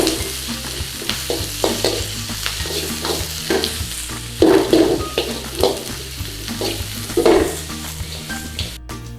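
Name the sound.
stir-frying peppers and green onion in a pan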